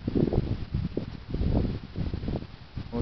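Strong gusting wind during a severe May 2011 windstorm in Cambridge City, Indiana, roaring and buffeting the microphone in uneven surges with no let-up, loud and close.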